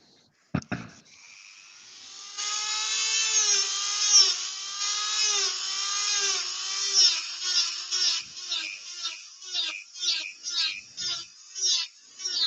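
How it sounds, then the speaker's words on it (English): A Ryobi rotary multi-tool texturing a turned wood piece. It winds up to a high, whining spin and holds steady, then breaks into a rhythmic series of short bursts as the bit is pressed and lifted against the wood. The sound is close and clear. "it's a Ryobi, but it's just like a Dremel, same sort of thing. Just a multi-tool, and I'm just going to randomly texture this bit in the middle."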